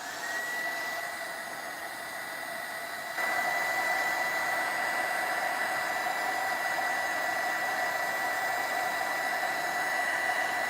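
A hair dryer blows a loud, steady whooshing hum, drying paint on a mixed-media altered art piece, and steps up to a stronger setting partway through before holding constant until the end.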